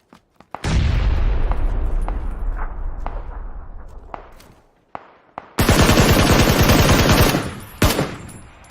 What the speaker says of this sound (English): now I need to move because I'm getting shot at again